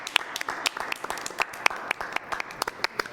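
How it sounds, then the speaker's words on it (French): A small studio audience claps for a woman named Judith on a French TV show set, distinct hand claps in an uneven, sparse rhythm, fairly close and moderately loud, with no talking. "Ça s'applaudit."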